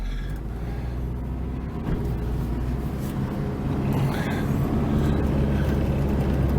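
A car engine runs steadily while driving on a foggy morning during a test with no water in the engine, a continuous low droning rumble inside the cabin that swells slightly partway through.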